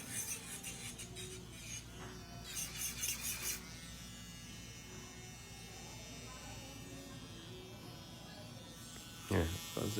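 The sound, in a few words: electric nail drill on cuticle and nail bed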